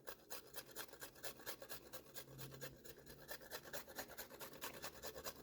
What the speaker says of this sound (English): We're gonna grind our ginger on the top.